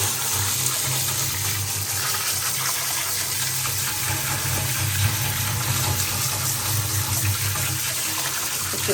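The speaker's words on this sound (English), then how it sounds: "So I'm just going to give them a little bit of a wash off" Hand-dyed yarn is rinsed under running water, a steady close gush of tap water pouring continuously with small splashing variations throughout.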